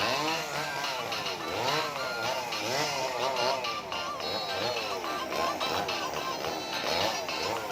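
Chainsaw cutting through a large mango tree, a loud, close, continuous whine that rises and falls in repeated sweeps as the blade bites into the wood.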